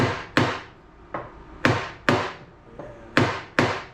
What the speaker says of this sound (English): So what I'm doing, I'm holding up on it and just tapping it.